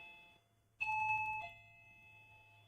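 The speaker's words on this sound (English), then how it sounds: "I have the most annoying doorbell of all" A very annoying home doorbell rings once, loud and close: a bright, sustained electronic chime that sounds for about half a second and then fades. Fainter steady tones hang before and after it in a quiet room, with no talking.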